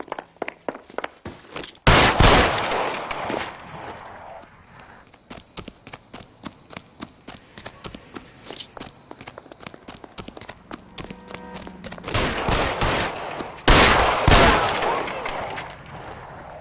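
Gunfire in a PS4 video game: quick repeated cracks and a couple of heavy, dense bursts of shots, with quieter gaps between volleys and a faint voice in the background.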